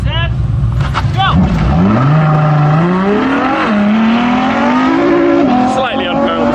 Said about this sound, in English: Slightly unparalleled start. But the LaFerrari flies into the lead.